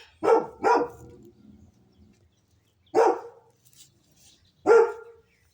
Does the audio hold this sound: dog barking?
yes